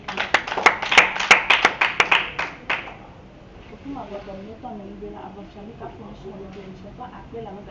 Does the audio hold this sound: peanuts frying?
no